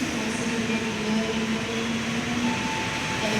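The Gaya Baru Malam Selatan passenger train rumbles loudly and continuously past a busy station platform, a dense steady roar with a faint tonal hum and no pauses.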